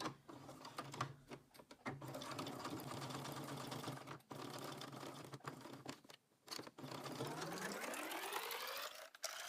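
Sewing machine stitching a square fabric coaster, a steady continuous whirring hum with brief pauses where the stitching stops and restarts, close and fairly quiet, with no talking.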